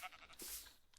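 Sheep bleating in the game Minecraft, a single wavering bleat rising and fading over about a second, fairly faint and with no talk over it.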